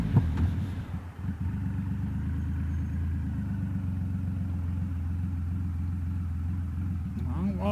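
2014 Triumph Rocket 3 roadster motorcycle with a Carpenter Racing setup, its big engine droning steadily and close at a constant low pitch throughout, with a short burst of revving near the start.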